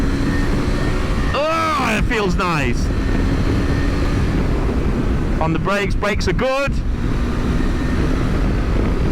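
A KTM 390 Adventure motorcycle engine droning steadily while ridden, with constant wind rush, as a rider talks in two short bursts over it.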